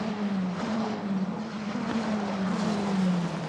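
An Italian F4 car, FIA-certified Formula 4, at the Paul Ricard circuit, holds a steady high-pitched engine drone whose pitch sweeps gently up and down through the gears, loud and continuous with a roaring wind-and-track wash around it.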